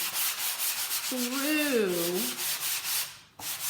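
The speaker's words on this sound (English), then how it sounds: "I'm just working the sanding sponge" A sanding sponge rubbing over a milk-paint finish on wood, a steady close scratchy rasp that continues for several seconds with a brief tonal squeak partway through, with no talking.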